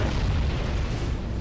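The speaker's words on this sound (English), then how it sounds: "these explosions are bloody loud in my ear" Explosions in a real-time strategy battle game with Necron, Ork and Imperial armies form a dense, loud, continuous rumbling roar that fills the whole moment with no gaps.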